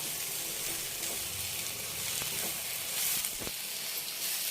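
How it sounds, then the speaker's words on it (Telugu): Pieces of ash gourd fry in ghee for halwa, giving a steady close sizzle with faint stirring scrapes and a few sharper clicks, no voices. "వేగిందండి బాగా చక్కగా నేను వేసిన నెయ్యికి దీనికి చక్కగా వేగింది"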